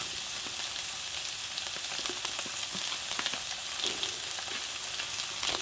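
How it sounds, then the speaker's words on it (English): Steady, bright sizzle of red Thai curry paste frying in a pan, with coconut milk being added and a few soft stirring clicks throughout. "Right, let's get this coconut milk in then."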